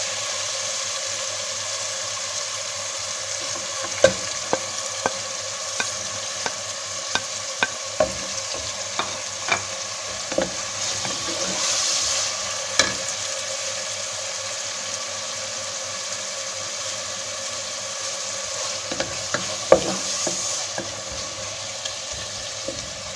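Tomatoes, green chillies and mint frying in a pot for Kabuli pulao give a steady soft sizzle, broken by scattered sharp clicks of a spoon against the pot, with no one speaking.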